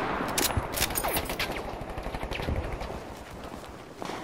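Rapid machine gun fire in Battlefield V multiplayer, dense bursts of crackling shots running almost continuously, loud and slightly distant, with scattered sharper reports mixed in.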